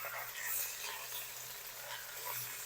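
Garlic ginger paste frying in a pan with browned onions for aloo matar pulao, a soft continuous sizzle with faint stirring, close and fairly quiet.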